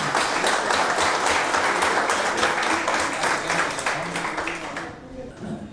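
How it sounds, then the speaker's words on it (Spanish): Audience applause at a civic discussion gathering on democratizing justice, honoring two lawyers; dense steady clapping that fills most of the stretch, then thins and fades out near the end. "un aplauso nuevo para los dos"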